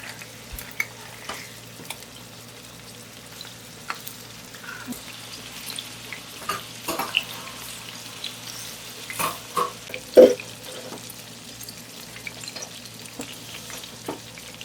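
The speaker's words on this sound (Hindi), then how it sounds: "तो चलिए फ्राई करते हैं और आपको दिखाते हैं।" Turkish chicken kofta kebabs shallow-fry in hot oil, a soft steady sizzle with scattered pops and a few louder crackles as the pieces are turned, no talking.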